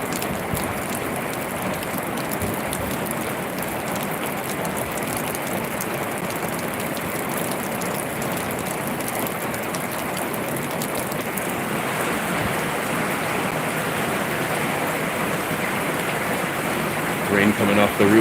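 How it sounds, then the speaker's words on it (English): Heavy rain pours off a tin roof in a thunderstorm, a dense, loud, continuous hiss and patter that never lets up. "Rain coming off the roof looks like it's even heavier."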